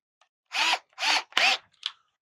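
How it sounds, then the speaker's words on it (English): A power drill zipping Phillips screws out of a 2012 Honda NC700X motorcycle, three short whirring bursts followed by a brief fainter spin, close and clear with no talking. "So, get my drill ready here."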